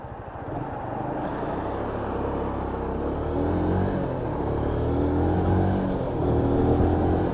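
A Keeway RKS Sport motorcycle accelerates steadily through its gears, its engine a continuous loud, close rumble that builds gradually in pitch and intensity, with no talking.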